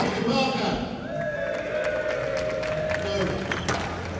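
Audience at a squash exhibition between Peter Barker and Peter Nicol cheering and clapping, a moderate burst of crowd noise with whoops and scattered claps, mixed with some voices.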